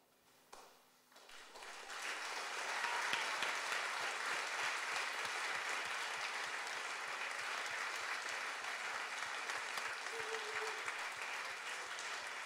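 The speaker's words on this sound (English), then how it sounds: "give these guys another huge round of applause" A church congregation at a baptism service breaks into applause, swelling quickly into a sustained, even roar of many hands that carries on without talk.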